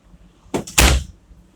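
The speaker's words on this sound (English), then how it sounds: "And then you got a pull-out drawer here" A pull-out drawer in a 2017 Insignia 44B RV slides open with two quick, close knocks, the second louder, in an otherwise quiet interior.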